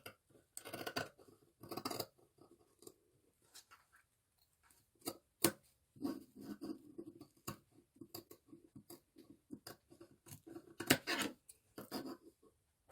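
Scissors snip through the fabric seam allowance of a traditional beoseon sock in irregular clusters of crisp cuts, close up, with quiet pauses between bursts and no talking.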